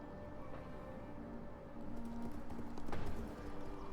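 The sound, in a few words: horse archers' hooves clip-clopping in video game Total War Attila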